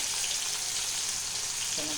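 Tomatoes and ground spice paste frying with salt in a pan for katla fish curry, a steady loud close sizzle throughout, with a faint clink near the end.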